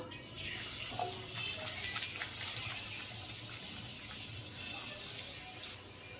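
Puffed luchi deep-fry in a pan of hot oil with a loud, continuous, close hiss that stays steady and then drops off slightly near the end.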